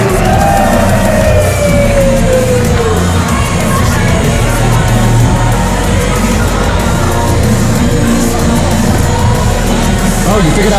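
A large crowd at a Creation Pro Wrestling show in Cardiff cheers, yells and whoops steadily and loudly throughout, with whistles and shouts rising over a constant roar of voices.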